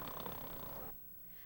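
A voice imitates another man's heavy snoring, giving one rough, throaty rattling snore close to the mic that cuts off abruptly.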